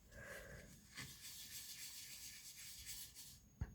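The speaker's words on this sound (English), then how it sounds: "don't rub too hard because you will rub it out" Paper being rubbed down onto a cardboard file folder by hand: a steady, soft, close rasping swish that continues for several seconds, ending in a brief sharp tap, with no talking.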